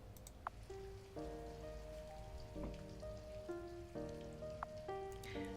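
Steady rain patters down in the city-building game Blockhood, a soft continuous hiss that lasts throughout while gentle tonal music notes chime over it. No one speaks.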